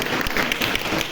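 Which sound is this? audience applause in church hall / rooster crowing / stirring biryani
audience applause in church hall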